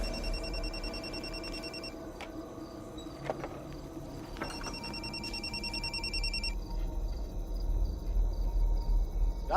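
A telephone rings on and on unanswered indoors, its repeated trilling bursts sounding over insect-like background hiss and a couple of knocks.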